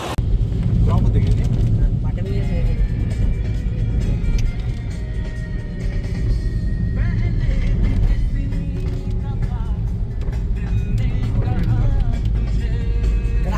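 A Hyundai i20 drives along a road toward a waterfall, its steady engine drone and heavy road rumble filling the cabin loudly and continuously, with muffled voices at times.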